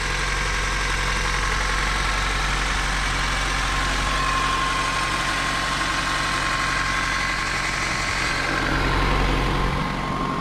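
A 35-year-old Toyota Camry with a 3S-FE engine idles cold, a steady, loud, close engine drone with a continuous low rumble and no break across the whole stretch, with no voices.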